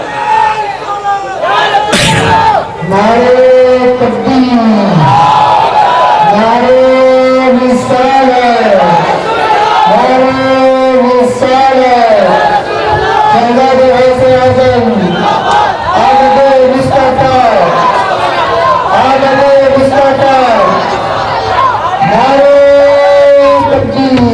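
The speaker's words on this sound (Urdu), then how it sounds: "یہ کامنٹری پہ نعرے کب سے لگنے لگے، میں پریشان ہوں۔" A large audience at a religious talk chants slogans in loud, rhythmic call-and-response waves, many voices rising and falling together in repeated bursts, close and full, continuing for the whole stretch.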